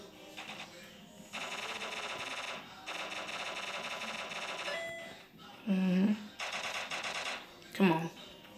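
Uzi gunfire in the video game Block Strike: several rapid, rattling automatic bursts, each lasting a second or more, separated by short pauses and mixed with brief electronic game tones, at moderate volume.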